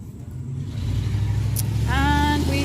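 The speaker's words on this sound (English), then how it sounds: "have a truck going by" A truck drives past with a low engine rumble that swells steadily louder, and a short voiced sound rises over it near the end.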